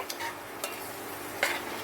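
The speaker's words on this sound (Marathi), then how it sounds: "वाटण व्यवस्थित परतून घेते" Ground masala paste sizzles softly in a hot tempering while being stirred, with a few quick scraping strokes over a faint, steady frying hiss.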